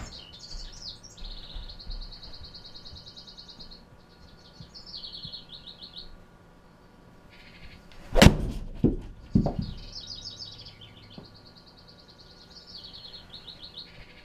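A golf ball is struck with a TaylorMade 7-iron on a straight shot, heard as a crisp impact followed by a couple of softer thuds, with birds chirping steadily in the open air around it.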